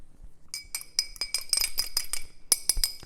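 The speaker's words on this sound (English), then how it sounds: "we're gonna crack open an egg and put that in our bowl here. And we're gonna give that a really light whisk." An egg being lightly whisked in a bowl, heard as quick, irregular clinks and taps of the whisk against the bowl, fairly close and bright, alone with no talking.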